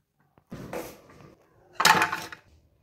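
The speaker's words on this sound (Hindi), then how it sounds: "अब इन बर्तनों को बाहर रख" Dishes, pots and pans being gathered and carried out of a room: a light clatter of crockery, a pause, then a louder burst of clinking and scraping that fades away. No voices.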